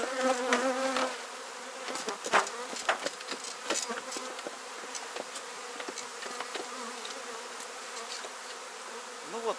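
A dense, steady buzzing of many honey bees at an open hive fills the air, loud and close, with individual bees droning past over the constant hum.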